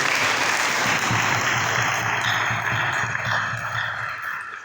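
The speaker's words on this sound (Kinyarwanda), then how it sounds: "tuyikomera amashyi menshi cyane" Loud, dense applause from a congregation at a gospel concert, continuous clapping that stays strong across the whole stretch and eases slightly toward the end.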